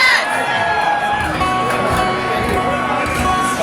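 A hockey crowd roars continuously, loud and dense, mixing cheers, whoops and children's shouts with no break.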